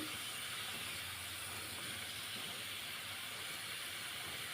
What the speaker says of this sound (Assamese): তো এয়া মই এটা ভাজি আছোঁ